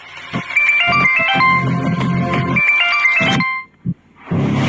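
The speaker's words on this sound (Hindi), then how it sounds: "तुम्हारा फोन बज रहा है" A mobile phone plays a bright melodic ringtone loudly and close by, in phrases that stop briefly near the end before a short burst of other sound resumes.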